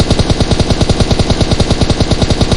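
Rapid automatic gunfire from a weapon in the mobile game PUBG Mobile, a loud, unbroken burst of evenly spaced shots that fills the whole stretch.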